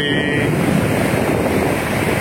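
The strong current of the Progo River rushes in a steady, loud roar of churning water, with constant broadband noise and some wind buffeting, and no pauses.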